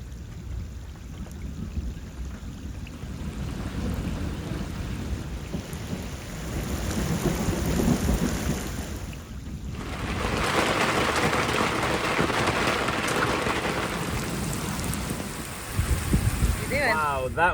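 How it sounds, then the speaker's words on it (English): Summer thunderstorm over the River Thames heard from a moored narrowboat: steady rain hiss with low rumbling thunder, swelling louder midway and continuing as a broad wash of rain. "Wow, that was an epic summer storm."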